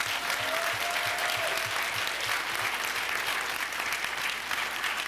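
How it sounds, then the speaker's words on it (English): Sustained applause from a seated audience at a city commission meeting honoring educators, steady dense clapping throughout with no voices over it. "So just give them another round of applause."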